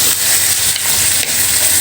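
Meat browning in a hot pan for chicken tinola, a steady close sizzle and crackle of frying that runs without a break, fairly loud, with no talking over it.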